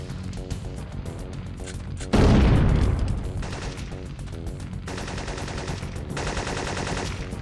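Gunfire in the PlayStation game Syphon Filter 2, a loud burst of shots with a heavy blast near the start, then continued rapid firing under a steady background of game sound.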